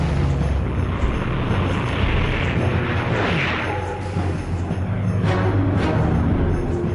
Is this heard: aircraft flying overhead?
yes